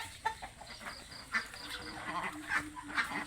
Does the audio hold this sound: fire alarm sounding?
no